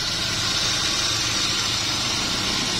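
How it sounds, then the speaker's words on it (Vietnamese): Steady, even idle of a 2003 Mitsubishi Jolie engine, a continuous mid-pitched hum with broadband noise, close and uninterrupted for under three seconds, no voices. "Máy nổ rất là êm nhá, còn nguyên ốc ác chưa ra anh chị."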